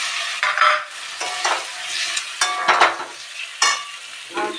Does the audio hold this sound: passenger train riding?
no